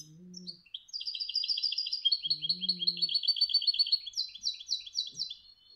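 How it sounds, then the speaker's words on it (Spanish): A European goldfinch sings a bright, rapid twittering song with trills and tinkling notes, interrupted by short low buzzy calls, close and clear. "Este es un jilguero mío también."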